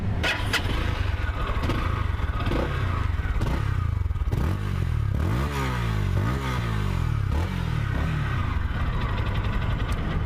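A fuel-injected KPR 200 motorcycle engine idles roughly, then revs up and down in several quick throttle blips, loud and close, with clattering mechanical noise and no talking.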